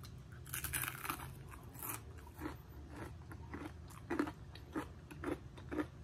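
Close, crisp crunching of fried talbos (vegetable shoots) being chewed, in a steady rhythm of bites with faint background hum.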